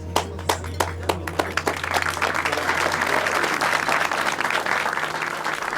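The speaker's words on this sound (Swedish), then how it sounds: "En applåd!" Applause follows a toast at a jubilee party: a few distinct claps first, then the whole room joins in dense, sustained clapping, with a low hum beneath.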